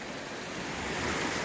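Steady broadband rush of river water flowing along Forge Run, a branch near the Shenandoah, continuous and fairly close with no talk.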